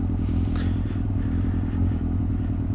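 A motorcycle engine runs steadily at low revs as the clutch is eased out slowly with no throttle, a continuous near rumble with light mechanical clatter throughout.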